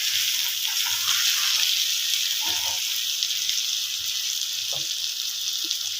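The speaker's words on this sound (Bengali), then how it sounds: "আদা রসুন টমেটো আর কাঁচা লঙ্কার পেস্টটা ঢেলে দিলাম।" Ginger, garlic, tomato and green chilli paste sizzles steadily in a pan for a crab curry with potato, pointed gourd and pumpkin, a loud continuous hiss with faint knocks of utensils and no speech.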